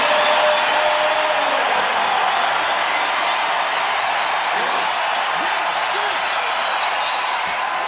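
Arena crowd at a basketball game in The Basketball Tournament cheering loudly and steadily, a broad sustained roar with whoops, heard up close throughout.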